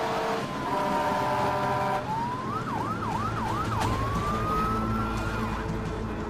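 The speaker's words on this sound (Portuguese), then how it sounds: "veículos de emergência estão a caminho" Emergency vehicle sirens responding to an airport crash, a steady wail that breaks into rapid rising yelps and then settles back into a long tone, heard over a constant broad rumble of engine and wind noise.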